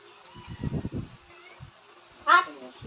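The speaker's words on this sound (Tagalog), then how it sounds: "Hihingi naman yung isang pusa na yun." A cat meows once, clear and fairly close, after some low thumping and muffled voices in the background, begging for food.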